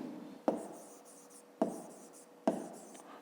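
Numbers written by hand with a pen for a fifth-grade maths exercise: three distinct scratchy strokes, each beginning with a crisp tap and tapering off, close up and quiet.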